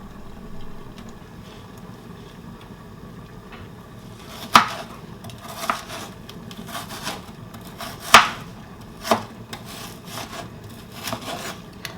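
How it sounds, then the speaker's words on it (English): Spinach being chopped with a knife on a chopping board, soft scraping and rubbing with a few sharper knocks of the blade against the board, quiet and close, without speech. "Now I'll get a chopping board and chop my spinach."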